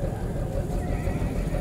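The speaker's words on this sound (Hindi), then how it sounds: "ये देखिए ये कैसे घोड़े उतरे यहाँ पर" Horses neigh as they are unloaded from a truck at the Pushkar fair in 2019, a steady close whinnying mixed with faint hoof clatter and crowd noise throughout.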